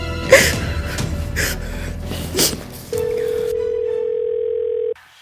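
A steady telephone tone sounds for about two seconds during a call being placed, after a woman's gasps and sobbing breaths; it cuts off abruptly at the end.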